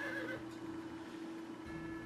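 A horse, or in fact a unicorn mount, neighs in the fantasy game Sacred. A short whinny comes right at the start, then a steady tonal drone of game ambience carries on beneath it.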